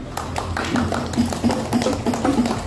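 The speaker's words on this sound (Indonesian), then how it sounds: "Boleh kita tepuk tangannya." Rhythmic clapping from a group, a steady beat of hand claps under some background murmur.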